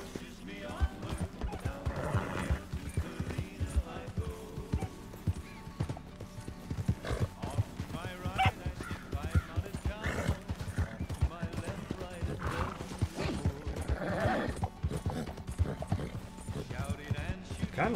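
A horse in a cowboy video game clip-clops along at a steady trotting rhythm, its hooves audible under someone talking throughout, with occasional snorts and other game sounds mixed in.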